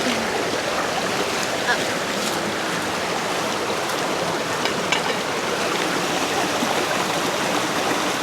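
A river flows steadily beside an outdoor cooking spot in Portland, Jamaica, its broad, even rushing wash filling the scene at close range without pause, with faint voices underneath.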